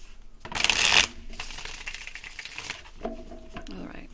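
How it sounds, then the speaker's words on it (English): A deck of tarot cards is riffle-shuffled in a quick, close burst of crisp fluttering. A softer shuffle follows, and a person speaks briefly near the end. "One more shuffle."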